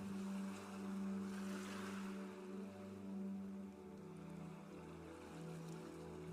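Low, steady rumble of open sea water with a soft swell and wash, continuous and moderately distant, with no voices.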